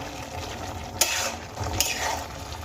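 Salt being mixed into raw green tomatoes in a bowl, heard as a soft moist churning with two sharper scrapes of the utensil, fairly close and quiet.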